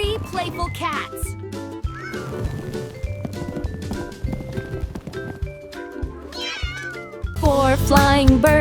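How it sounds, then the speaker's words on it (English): Cartoon cats meow repeatedly over a bouncy children's counting-song backing, bright and close, with cheerful music filling the background throughout. "3 playful cats"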